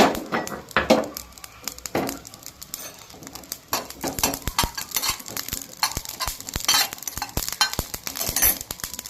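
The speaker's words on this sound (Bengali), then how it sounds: "এরপর আমি জিরাটা ভেজে নেব ওর সঙ্গে" Cumin seeds dry-roasted alongside small cardamom in a pan, stirred with a utensil: repeated scraping and clinking knocks against the metal over a faint crackle, close and fairly loud, with no talking.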